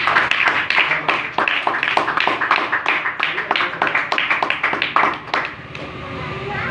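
A religious-talk audience claps for a speaker in a steady burst of dense, loud applause lasting several seconds, then tapering off.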